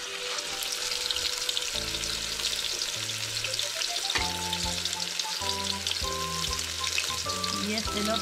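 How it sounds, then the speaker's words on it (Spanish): Trout sizzling as it fries in hot oil, a steady dense crackle throughout, loud and close, with faint tonal background music underneath. "Acá ya tengo el aceite caliente. Y voy a comenzar a freír."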